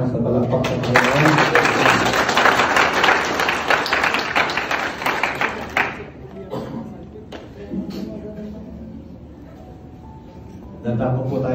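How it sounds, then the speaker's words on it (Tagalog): Wedding guests at a ceremony in Japan break into loud, dense clapping for about five seconds before it fades into talk and scattered sounds. "isang malakas na palakpak sa Panginoon."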